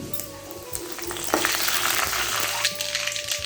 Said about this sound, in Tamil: கடுகு உளுந்தம் பருப்பு வரமிளகா போட்டு பொரிஞ்சிருச்சு